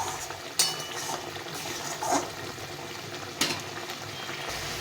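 Garlic slowly cooked down with spices in a pan over low heat gives a soft, steady sizzle and bubbling, with occasional utensil scrapes and clinks against the pan, close and without speech.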